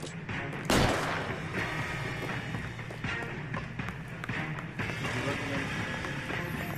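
Gunshots ring out in the LA Noire video game during a chase, a sharp blast early on followed by scattered lighter cracks and thumps over busy game noise.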